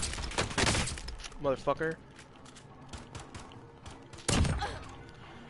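Pistol fire from a Warzone match cracks out in sharp, rapid bursts, with one cluster near the start and another toward the end, loud and close, with a man swearing briefly in between.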